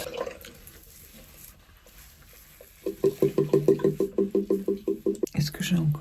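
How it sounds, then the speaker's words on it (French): Water splashes as a face is rinsed with a washable cloth wipe, a fast series of regular wet pats and squishes close by, after a quieter stretch with low background noise. "je vais rincer avec ma lingette lavable"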